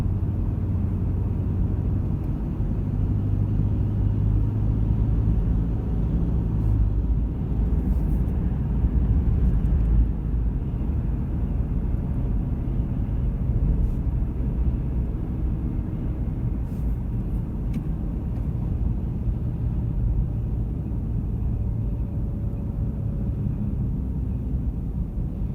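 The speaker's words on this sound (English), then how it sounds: "noisy truck next to me" A noisy truck runs nearby with a steady low engine rumble and drone that continues for the whole stretch, constant and fairly loud, with no voices.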